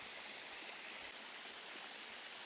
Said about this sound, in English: drowning out the sound of that waterfall next to me